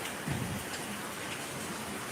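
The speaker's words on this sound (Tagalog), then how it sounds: "Sobrang lakas po ng ulan." Heavy rain pours down steadily, a dense continuous wash of drops drumming on surfaces nearby, loud and unbroken throughout with no voices.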